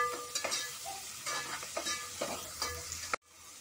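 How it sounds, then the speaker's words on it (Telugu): Onions and green chillies stirred in a frying pan, with a soft oily sizzle under repeated scraping strokes of a spoon against the pan, close and fairly quiet, ending in a brief clatter. "ఒక్కసారి కలుపుకుందామండి ఉల్లిగడ్డ ఒక రెండు నిమిషాలు మగ్గనిద్దామండి"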